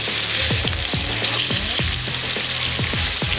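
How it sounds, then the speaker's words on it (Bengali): Katla fish pieces rubbed with salt and turmeric fry in hot mustard oil, giving a loud, steady sizzle with repeated sharp crackles and spatters running throughout, with no talking. "এবারে লবণ হলুদ মাখিয়ে রাখা কাতল মাছগুলোকে ভেজে নেব।"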